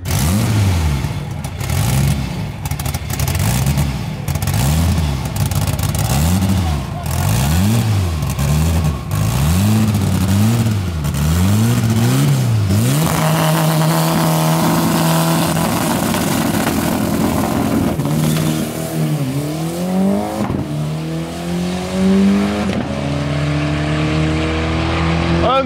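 Rare Volkswagen Beetles at a drag race rev hard through repeated rising and falling engine sweeps, then roar off the line in a long, loud acceleration run, with a second climbing pass near the end and voices faintly under the engines.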